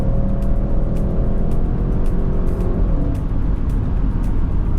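An Audi RS6 accelerates hard, its engine roaring loudly and steadily from inside the car with a dense, continuous rumble and rising pitch over nearly five seconds.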